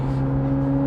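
A Ferrari 458 Spider with an iPE exhaust holds a steady, humming engine note, loud and close, over less than a second with no talk.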